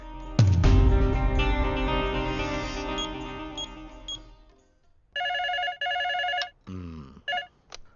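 A telephone rings in bursts after a ringing chime fades out, the electronic rings repeating with short gaps.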